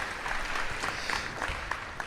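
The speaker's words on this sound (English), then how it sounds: "Big round of applause." A live audience at a chamber of commerce event claps steadily throughout, a dense, close roar of many hands with no talk over it.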